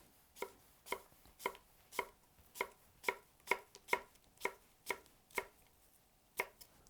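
A utility knife makes fine julienne cuts on a cutting board, a steady series of about a dozen crisp, evenly spaced chops heard close up and alone.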